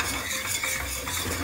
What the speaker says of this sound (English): So you keep roasting till it turns brown